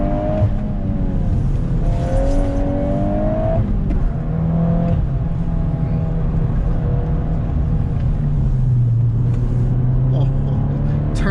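A 2022 Volkswagen Golf R engine pulls hard while driving on a wet road, its note rising and falling through rev-matched shifts, loud and close, with someone talking over it in the cabin.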